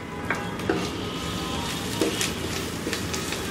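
Chopped ginger and garlic fry in a little oil in a wok over medium-low heat, a soft, steady sizzle broken by a few light clinks and stirs.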